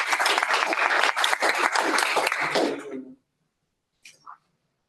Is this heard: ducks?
no